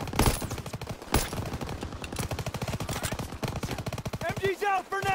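Sustained machine gun fire in the World War II shooter Call of Duty: WWII, a loud, rapid, continuous rattle of shots from an MG position with explosions and battlefield noise, under shouted soldier voices.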